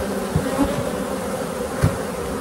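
Honeybees in a queenless hive produce a dense, steady close buzzing drone with a few louder individual bee passes flicking by.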